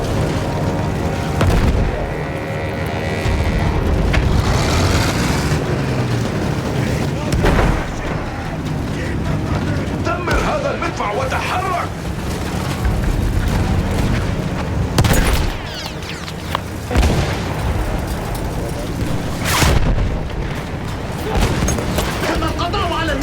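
In Battlefield 1's World War I Ribecourt battle featuring a Mark V tank, heavy cannon blasts and explosions boom repeatedly amid continuous gunfire, loud and close, with a voice talking over the combat.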